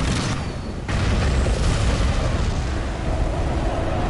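Fuel drums blow up after being shot in the Lego Jurassic World video game: a loud, dense booming roar after a brief lull, holding as a sustained rumbling blast throughout.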